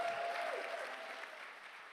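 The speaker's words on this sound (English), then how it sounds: "A big applause to Josiane." Faint, steady applause from an audience for a speaker at a conference session, a soft continuous wash of clapping with a brief tone underneath at the start.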